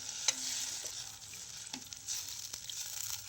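Faint frying sizzle from a pan, a soft steady hiss with a few clinks of a utensil against metal.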